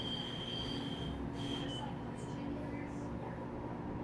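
A Salt Lake City light rail train runs steadily, with rolling wheel rumble and high metallic wheel squeals rising and fading, heard from inside the car alongside faint voices.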